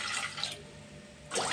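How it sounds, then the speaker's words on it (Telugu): Water is poured from a glass into a pot set on a gas stove, a short splashing pour that fades and then briefly returns, close and fairly quiet. "కొద్దిగా పోసానండి గ్లాసు నీళ్ళకి"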